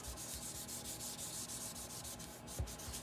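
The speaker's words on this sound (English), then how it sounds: "I'm going to get my little tool out that I like to use, and I'm going to rub that" A small burnishing tool rubs paper down onto glued card in quick, even back-and-forth strokes, a soft rhythmic scratchy rasp close by with one light tap, no talk.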